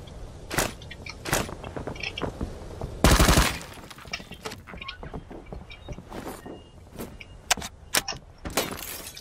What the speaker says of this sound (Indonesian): Ada suara tembakan di